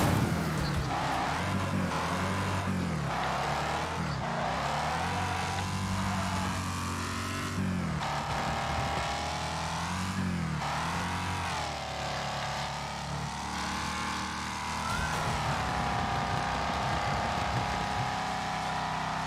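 A car engine in the racing game Wreckfest: a steady, humming drone with harmonic layers, rising and falling in pitch as if revving and shifting, loud and continuous with no talk.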